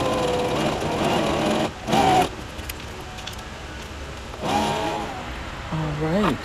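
A sewing machine runs a straight stitch in short bursts of quick mechanical whirring, with a person talking between and over the runs.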